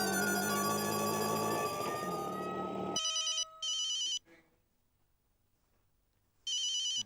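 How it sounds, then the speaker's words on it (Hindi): A mobile phone's ringtone rings loudly in bursts, cuts out, then resumes after a short silence, ringing for an incoming call. "जेठालाल का फोन।"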